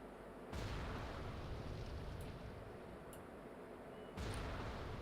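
Mortar fire in World of Warcraft Classic, two heavy booming blasts a few seconds apart, each followed by a long rumbling roar, with faint sharp cracks between them, loud and alone.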